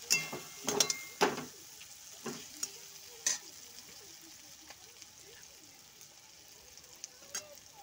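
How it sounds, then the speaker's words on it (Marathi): Biryani masala stirred in a pan for veg biryani, with a few sharp scraping clatters in the first seconds, then a softer, steady sizzle and occasional light knocks. "परत हलवून घ्यायचे आपल्याला"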